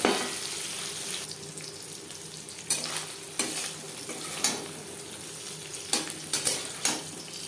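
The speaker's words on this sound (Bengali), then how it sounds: "প্রথম ব্যাচের মাছ ভাজা হয়ে গেছে" Small mourola fish sizzle gently in a pan of oil, with a steady hiss broken by several clinks and scrapes of a utensil against the pan.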